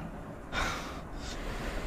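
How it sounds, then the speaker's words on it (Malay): Heavy breathing from a person sleeping during a car journey, with two loud rasping breaths, one strong and one softer, over a steady low background hum. "Kuat kau bernafas nak tidur."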